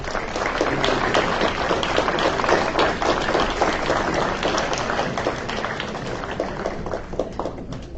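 An audience claps steadily for several seconds at the end of an engineering lecture, dense applause from many hands filling the room at an even level.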